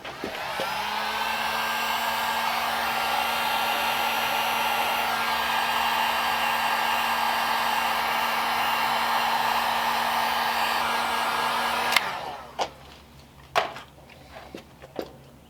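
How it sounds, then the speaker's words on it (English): A heat gun blows hot air onto shrink wrap over dash wiring in a 1939 Ford Tudor hot rod, a steady loud whirring rush for about twelve seconds that cuts off, followed by a few faint clicks and knocks. "grab my heat gun"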